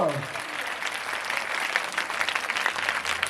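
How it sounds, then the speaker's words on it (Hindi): Loud applause from a church congregation, starting as a voice trails off and building into dense, steady clapping for a few seconds. "उस यीशु के लिए जोरदार तालियां।"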